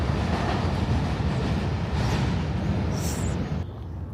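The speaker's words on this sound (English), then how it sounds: "there's the metro coming through." A St. Louis MetroLink train rumbles past close by, a steady broadband roar with rail noise that holds for about four seconds before dropping off sharply at the end.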